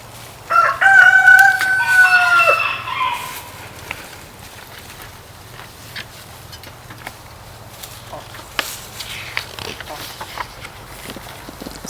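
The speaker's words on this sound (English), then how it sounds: "Pauline clucked proudly." A hen named Pauline, a storybook farm chicken, gives a short burst of clucking and crowing-like calls near the start, loud and close, fading into quiet room noise with a faint low hum afterward.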